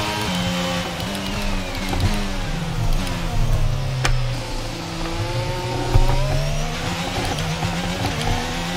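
Race car engine in the F1 22 video game on a wet track at Suzuka, a steady droning whine that rises and falls with throttle and gear changes, loud and continuous, with faint tire noise and no talk.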